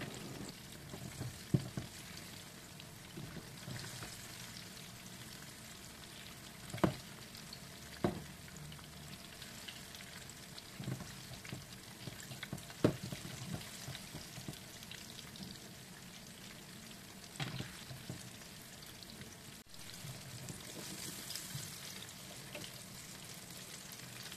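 Battered cempedak fries in a wok of hot oil, giving a continuous soft sizzle and bubbling broken by a few sharper pops and clinks, with no one speaking.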